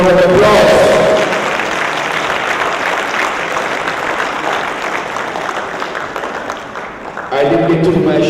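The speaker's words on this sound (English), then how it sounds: "Can we give him a big round of applause?" Big round of applause for a panelist at an agri-business investment forum in Jamaica: dense, steady clapping from a large audience filling several seconds, with a voice speaking over the start and end.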